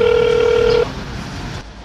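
A telephone call is placed to Taiwan. A single steady line tone sounds loud and clear for under a second, then cuts off to faint line noise.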